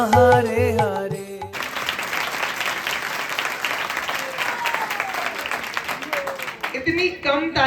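Audience applause after a devotional drama performance at an ISKCON Gaur Purnima event, a steady wash of clapping lasting several seconds between stretches of amplified voice and music.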